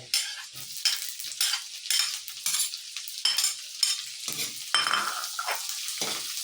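Garlic and onion frying in a pan, with a steady sizzle broken by repeated stirring scrapes, close and fairly loud, with no talk.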